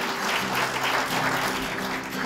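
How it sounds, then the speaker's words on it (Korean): Audience applause at a plaque presentation during a political academy lecture, a dense and fairly loud crowd clapping continuously over a low steady hum. "따뜻한 박수 부탁드리겠습니다."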